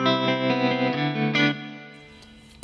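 An electric guitar played through a Joyo Jam Buddy II with its church reverb setting: sustained chorded notes, slightly distorted, ringing into a long, spacious decay before a sharp final click.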